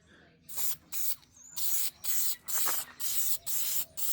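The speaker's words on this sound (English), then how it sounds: "we got some Southern black paint here. I'm just gonna quickly just paint over this whole thing." Rattle can of black spray paint coating a part on a Range Rover L322 off-road build, fired in about eight short bursts with brief pauses between, close and loud hissing, no talking.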